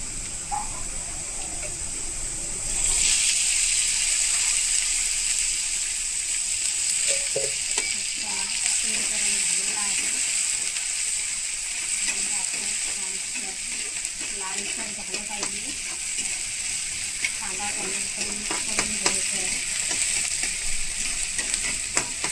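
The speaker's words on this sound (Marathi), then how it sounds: "कांदा आणि टॅमॅटो आपण फ्राय करून घेऊया" Onion and tomato fry in a pan for a Maharashtrian-style dry sabzi of wild kantola, a steady close sizzle with bursts of crackle starting after a quiet first three seconds and running continuously, with occasional stirring scrapes.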